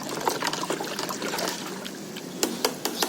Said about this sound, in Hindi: और ये पानी जो है फिर हम अपने प्लांट्स में दे सकते हैं